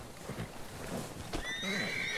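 A horse in a video game whinnies loudly, a long shrill neigh rising and falling over a steady background rumble.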